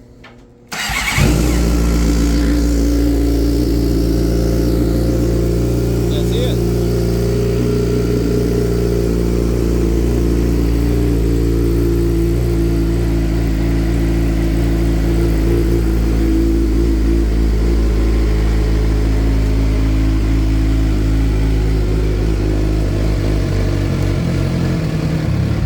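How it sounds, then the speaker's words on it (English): A 2006 Suzuki GSX-R 600 sport motorcycle engine cranks and catches after a brief whir, then settles into a loud, steady low idle that runs on alone for about 25 seconds. "I'll start it up so you can hear it. Fuel pump runs very loud."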